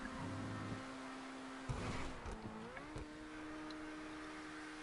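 A McLaren Senna engine in GTA Online revs in bursts, a buzzy droning tone that dips, then climbs and shifts pitch in short surges before settling into a steady hum, fairly faint and heard alone.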